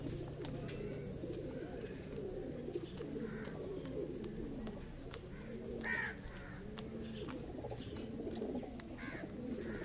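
Pigeons cooing softly in repeated low, rolling phrases against a quiet background, with occasional faint crow-like calls and small sharp knocks, no speech.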